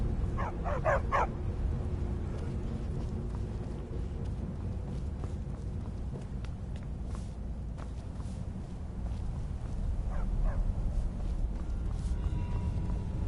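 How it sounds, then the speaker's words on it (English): Several dogs bark and yip in short bursts within the Skyrim video game, with a cluster of barks near the start and another around ten seconds, set over a steady low ambient hum. "Don't mind the dogs. They get anxious when they haven't had dinner."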